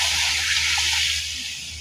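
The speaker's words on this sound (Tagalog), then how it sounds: "Lagyan natin tubig mga idol." Water poured into a pan of browning chicken for a Filipino chicken curry, a steady hissing gush that fades slightly toward the end, heard close and alone.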